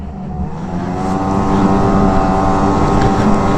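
A 2020 Arctic Cat Riot snowmobile engine runs loud and close, a steady droning roar that rises slightly in pitch and strength as it holds near constant throttle.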